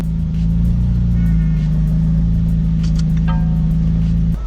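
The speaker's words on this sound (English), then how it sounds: "we're about to hear a Lamborghini V10, and that is, well, it might be one of the best sounds on planet Earth" A Lamborghini V10 engine, close and loud, holding a steady deep rumbling note with a couple of throttle blips over it before cutting off near the end; no talking.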